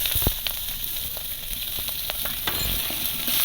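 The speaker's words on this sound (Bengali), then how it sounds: "পেঁয়াজ আর কাঁচা লঙ্কা এখানেই ভেজে নিচ্ছি" Oil sizzles steadily around frying onions and green chillies, with a few sharp crackles and spatters popping out of the constant hiss.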